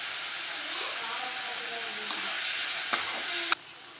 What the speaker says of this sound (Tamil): இந்த மிக்சர் நல்லா வதங்கினதுக்கு அப்புறமா நம்ம பார்க்கலாம்.